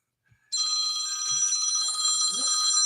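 A phone in someone's hip pocket rings after a brief quiet moment, a loud, continuous electronic trill close by, with faint voices murmuring under it.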